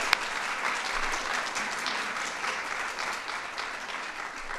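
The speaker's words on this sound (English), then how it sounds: "So let's give our parents, grandparents a round of applause." A room full of parents and grandparents applauding at the White House Kids' State Dinner, a steady, even roar of clapping that holds for nearly five seconds.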